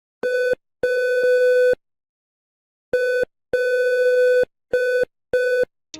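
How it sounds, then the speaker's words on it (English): A Morse code message for Star Trek Fleet Command plays as steady electronic tones, a loud clean pattern of short dits and long dahs separated by crisp silences, with no voices. "on the official Discord, they've been playing a strip of Morse code to send out a message."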